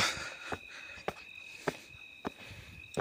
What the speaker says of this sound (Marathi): रातकिड्यांचा आवाज येतो कुरकुर कुरकुर कुरकुर.